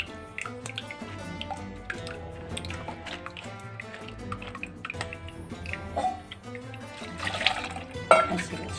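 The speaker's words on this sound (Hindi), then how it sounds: "ऐसे बस ये पानी डाल के" Water poured onto tamarind pulp in a pan while making chutney, a soft trickle and dripping splash that builds to brief louder splashes toward the end.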